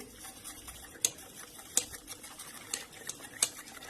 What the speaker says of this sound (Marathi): आता हे बॅटर मिक्स मिक्स करून घेऊ